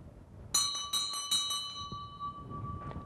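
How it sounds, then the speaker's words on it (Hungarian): Small hand bell rung repeatedly during a clockwise room-cleansing ritual with incense, walking wall to wall: several bright metallic strikes in quick succession with ringing decay, then a few fainter rings. "Folyamatosan csengetünk közben."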